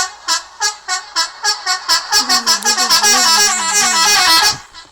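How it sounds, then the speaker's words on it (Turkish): A car horn honks in a rapid series of short blasts that speed up, then merge into one long sustained blare, loud and close. Tofaş car horn. "Kornayı deneyelim arkadaşlar"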